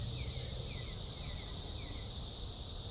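Cicadas buzzing outdoors near an art museum in Huntington, a loud, unbroken high-pitched drone filling the air, with faint chirping calls repeating over a low background rumble.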